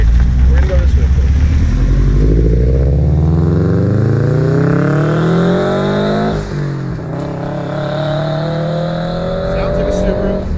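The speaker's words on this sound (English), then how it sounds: "Sounds like a Subaru." A modified 2005 Subaru Legacy GT wagon accelerating hard, the engine note climbing steadily through the revs, dipping at a gear change and then rising again, loud and close from inside the car.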